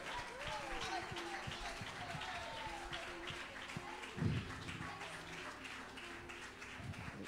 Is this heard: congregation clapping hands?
yes